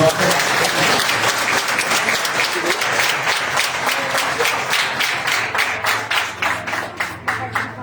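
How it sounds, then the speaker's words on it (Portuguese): Church congregation at a Sunday service gives steady, full applause that continues throughout and then tapers into individual, more distinct claps toward the end. "Dê uma salva de palmas para esses 3 aqui."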